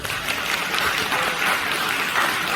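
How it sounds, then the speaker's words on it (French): Audience applause at an anime voice-acting panel at a French fan convention, a dense steady wash of many hands clapping, fairly loud and sustained throughout without pauses. "On peut les applaudir s'il vous plaît"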